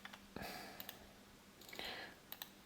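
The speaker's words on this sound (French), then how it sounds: "Je clique sur la première, je clique sur l'autre." Computer mouse clicks during an Illustrator tutorial, a few quick sharp clicks in two small clusters, close and fairly quiet, with a faint background hum and no talking.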